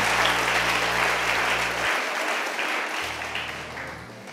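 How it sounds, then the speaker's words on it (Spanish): A church congregation applauds during a Sunday service, loud sustained clapping across the whole stretch with a low organ or keyboard drone underneath that cuts out briefly midway. "Dile un aplauso fuerte a Jesús."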